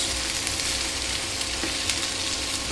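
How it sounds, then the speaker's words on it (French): Steady sizzling of zucchini frying in a pan over medium heat, a constant soft crackle with no voices. "Je vais faire cuire le tout jusqu'à ce que les courgettes soient bien tendres."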